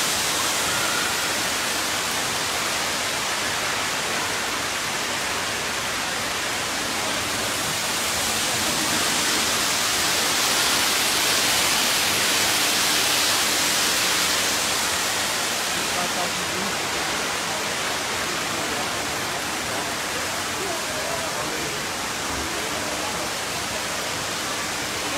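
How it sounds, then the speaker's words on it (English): Waterfall inside the Cloud Forest dome at Gardens by the Bay, Singapore, a steady loud broadband rush of falling water that holds unbroken throughout, with faint voices in the background. "So this is the waterfall view."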